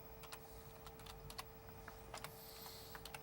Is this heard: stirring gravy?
no